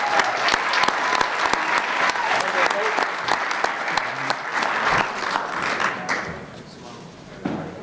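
Enthusiastic applause fills a school district board meeting room, with sharp individual claps and a few thuds. It stays strong for about six seconds, then trails off as voices pick up.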